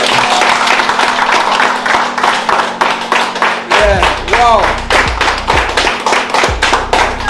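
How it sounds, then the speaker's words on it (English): A round of applause at a fundraising gathering, with loud, dense clapping from a small group close by and a few louder taps and thuds. Low music plays under it and a voice briefly cuts in partway through. "Round of applause."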